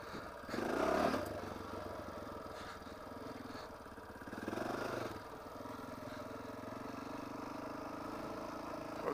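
A trail motorcycle's engine hums steadily as it climbs a rocky hill, swelling briefly twice and then settling into an even drone, moderately close, with no talking.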